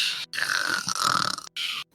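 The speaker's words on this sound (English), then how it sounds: "Did you guys hear my snoring sound effects?" A snoring sound effect during a tabletop role-playing game session: a few rough, rasping breaths with brief gaps between them, close and clear.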